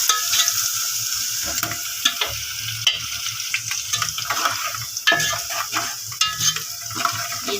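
Garlic paste frying with browned onions in a pan for a white chana and egg curry, a steady close sizzle broken by repeated scraping stirs of a spoon, with no talking.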